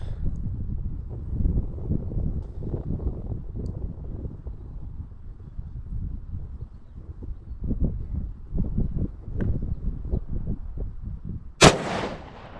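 A single rifle shot in .300 Win Mag fired at an aerated concrete block wall, a sharp loud crack near the end, heard over steady low outdoor wind rumble.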